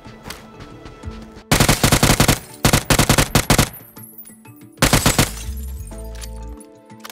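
A UMP submachine gun is hip-fired in PUBG in fast, loud automatic bursts, a rapid string of sharp cracks, a pause, then another short burst.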